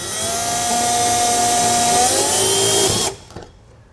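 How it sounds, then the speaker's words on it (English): A power drill whines steadily as it bores small pilot holes into an RV trailer wall during a porch light install, a loud continuous high whir for about three seconds that slows and then cuts off abruptly into near silence. "I'm just gonna do a little pilot hole there, another one up here."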